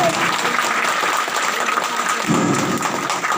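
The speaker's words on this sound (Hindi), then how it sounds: "जोर से ताली दे सभी" Dense clapping from a congregation at a healing prayer meeting in Jamui, Bihar, a steady wash of many hands close by, with voices mixed faintly underneath.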